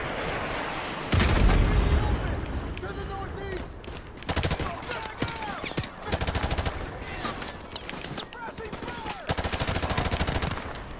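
Heavy gunfire from the Call of Duty Modern Warfare Remastered campaign, loud repeated shots and automatic bursts with booming impacts, coming in clusters across the clip with short gaps between volleys.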